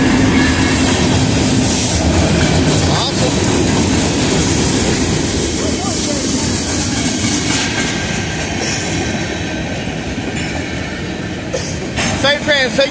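An Illinois Central freight train rolls through a crossing in Effingham, Illinois, its loud, steady wheel rumble and clatter continuing throughout, with a faint crossing bell early on and squealing near the end.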